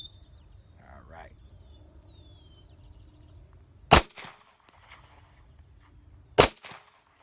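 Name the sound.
Walther CCP pistol shots with Federal Premium rounds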